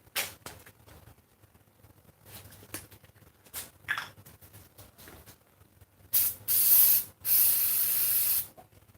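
Carb cleaner sprayed from an aerosol can onto spark plugs from an Onan Emerald 3 generator: faint rustling and scrubbing, then two loud, close, sustained hissing bursts near the end, the second longer.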